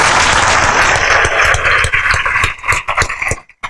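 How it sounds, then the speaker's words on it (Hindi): An audience claps together to congratulate students at an event with a UPSC topper. Dense, loud applause fills the first two and a half seconds, then thins into a few scattered claps and fades to near silence. "तो जोर से ताली बजा के एक"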